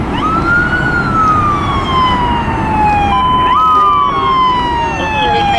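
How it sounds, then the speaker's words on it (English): A toy police car siren wails loudly and steadily, its tone sliding slowly downward before jumping back up and falling again, over a noisy rumbling background. "this is police car"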